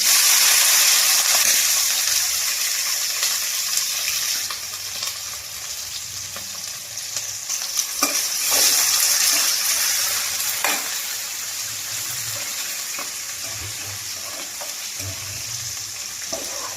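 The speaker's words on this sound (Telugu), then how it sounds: "ఒక పెద్ద ఉల్లిపాయ సన్నగా కట్ చేసి పెట్టాను ఇప్పుడు దానిలో వేసేద్దాం" Chopped onion and green chillies frying in a hot pan, a steady close sizzle with occasional stirring scrapes throughout, no talking.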